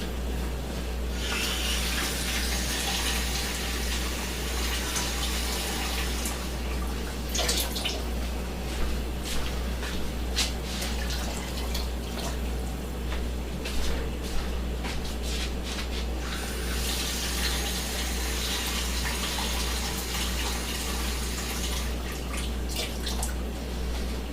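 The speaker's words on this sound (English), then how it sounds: "I'm going to add enough water to it to bring it back up to about an inch below the pan rim." Steady running tap water pours continuously into a pan of boiling chicken, a broad rushing hiss with occasional brief splashes, close by and without talk.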